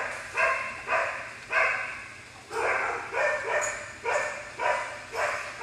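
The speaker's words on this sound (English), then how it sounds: "No, we ain't got no bad dogs here." Dogs barking in a yard, a series of about eight loud, evenly spaced barks at moderate distance with no talking.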